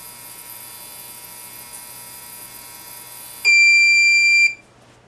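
After a faint electrical hum, a kitchen timer's shrill, loud buzzer sounds for about a second, then cuts off abruptly.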